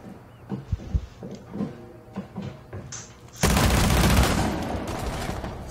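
Gunfire rings out in Rainbow Six Siege: scattered single shots and short bursts, then a sudden sustained loud barrage of rapid fire that continues to the end.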